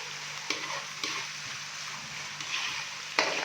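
Spices, salt, crushed red chilli and tomato stir-frying for achari mutton pulao, a steady close sizzle with scraping spoon strokes against the pot at intervals, no voices.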